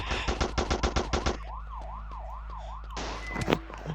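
Gunfire in a gangster crime video game: a rapid burst of about eight loud shots, followed by a wailing police siren and a final shot or two amid the game's clatter.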